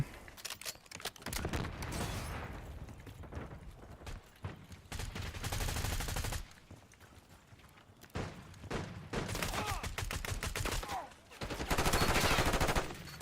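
Rapid automatic gunfire from a Call of Duty video game, loud bursts of machine-gun fire in several long stretches separated by brief lulls, with a voice talking intermittently under the shooting.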